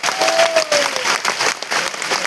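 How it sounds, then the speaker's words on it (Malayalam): An audience claps for a speaker, giving a short burst of steady, close applause that lasts a couple of seconds, with a faint whistle-like tone near the start. "നല്ലൊരു കൈയടി സാർ"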